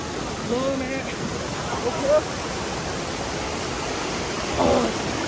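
A mountain stream rushes steadily over rocks near a Himalayan village path, a constant broadband hiss of flowing water, with brief faint voice-like sounds rising over it a few times.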